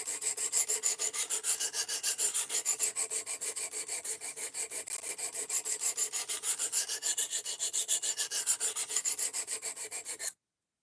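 Blade of an Ozark Trail axis lock folding knife stroked back and forth on a sharpening stone, a quiet, even rasping rhythm of rapid repeated strokes lasting about ten seconds with no voices.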